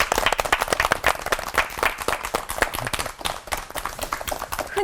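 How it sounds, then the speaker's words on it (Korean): A studio audience at a Korean Christian TV lecture program claps in a brisk, crisp round of applause for three pastors, individual claps clearly audible throughout. "세 분 목사님께 감사의 박수 보내드리겠습니다."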